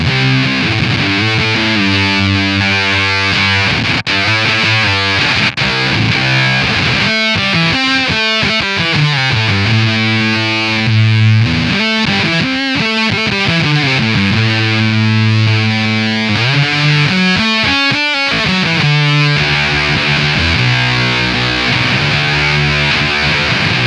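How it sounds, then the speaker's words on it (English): Mastro Valvola OFF1 pedal's dirty octave-up fuzz, Green Ringer style, on electric guitar: loud, buzzy, ring-modulated tone with sliding, bending notes and sustained chords played continuously alone. "this turns on and off an octave up sound. Now this is kind of like a green ringer style. It's a dirty octave up."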